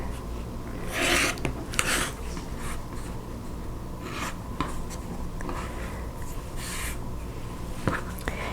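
Fabric edges on a half-square-triangle quilt block being trimmed, heard as close, soft repeated scraping and rasping strokes with brief pauses between them.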